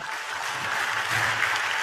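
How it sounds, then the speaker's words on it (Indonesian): A church congregation breaks into steady applause, a dense wash of clapping that holds throughout. "Tepuk tangan dong buat Tuhan."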